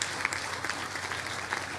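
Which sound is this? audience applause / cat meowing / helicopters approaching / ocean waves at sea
audience applause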